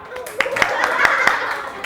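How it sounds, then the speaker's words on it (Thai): A small audience at a young scientists' event claps for a group, a brief burst of scattered hand claps with light chuckling, fairly close and loud. "ทุกคนปรบมือให้กับกลุ่มไอสไตล์ครับ"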